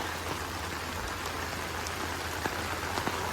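Heavy rain pours beside a flooded creek at Yseleta Bayou, a dense, steady hiss of falling drops with a few sharper splats close by, no voices.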